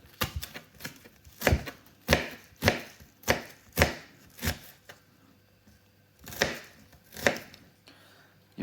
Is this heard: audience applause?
no